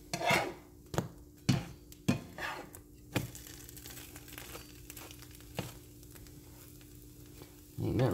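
French toast frying in a pan, a low steady sizzle broken by several sharp scrapes and knocks as the pieces are turned over, close and fairly quiet.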